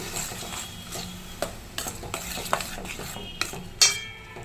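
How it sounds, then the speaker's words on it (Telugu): Spice paste goes into a hot pan and is stirred, with a soft sizzle beneath repeated scraping clicks of a spoon against the metal, a few sharper knocks near the end. "దీంట్లో మనం చేసుకున్న పేస్ట్ దాంట్లో వేసేద్దాం."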